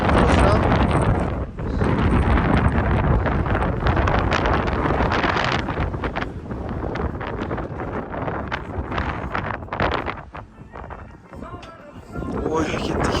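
Strong gusting wind batters a microphone on the Zomin suspension bridge, a loud continuous roar that dips briefly now and then, with people talking underneath.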